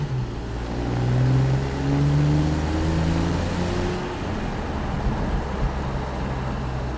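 A Porsche 911 Targa 4S (997.2) in sport mode accelerates at low road speed, its engine note climbing in rising tonal sweeps over two gear pulls before settling into a steadier cruising drone with road noise.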